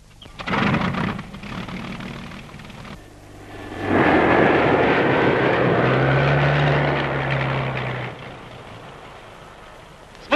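A propeller airplane takes off in a 1944 Soviet war film, its engine drone rising and swelling loudly mid-clip with a sustained roar, then easing back as it climbs away.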